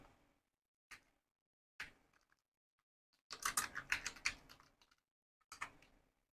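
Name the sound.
typing on computer keyboard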